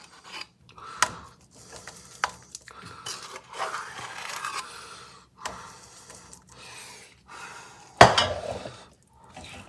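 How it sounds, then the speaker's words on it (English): Spatula scraping and tapping as chocolate brownie mixture is spread evenly in a greased baking pan, with scattered clinks of utensil against pan and one sharp metallic knock near the end. "And just spread out evenly."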